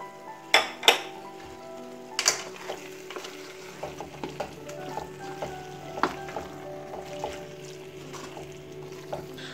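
Green chillies go into a simmering soya chunk curry with a soft sizzle, as a spoon scrapes and clinks against the pot in a string of irregular taps, louder at the start and easing off.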